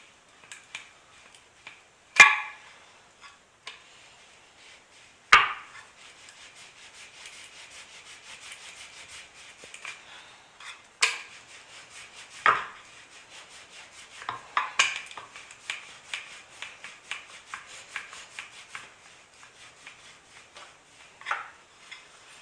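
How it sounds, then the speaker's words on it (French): A rolling pin presses and flattens slices of crustless cereal sandwich bread, making soft, quiet rubbing strokes broken by a few sharp taps and knocks. "je vais l'aplatir au rouleau pâtissier"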